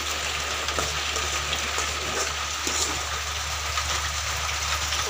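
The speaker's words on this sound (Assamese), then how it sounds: "কলডিল ভাজি বনাই আছে ধৰণে" Banana flower frying with meat in a pan, a steady close sizzle with occasional crackles over a low constant hum.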